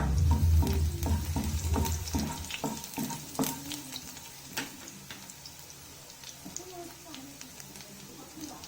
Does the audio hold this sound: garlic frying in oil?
yes